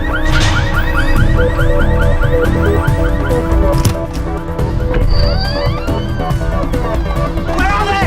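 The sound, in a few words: car alarm going off on a green Volkswagen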